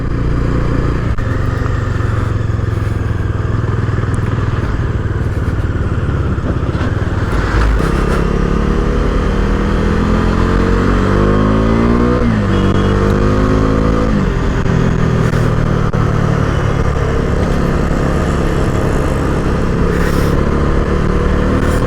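A Bajaj Dominar 250 motorcycle engine held running and revved to high rpm, loud and close, with a steady idle followed by repeated rising and falling revs and rattly mechanical clatter.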